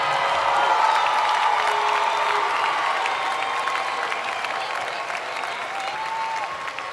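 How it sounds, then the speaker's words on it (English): A crowd at a high school commencement ceremony gives a graduating group a steady, full round of applause, with light cheering mixed into the continuous clapping throughout. "How about another round of applause for this group"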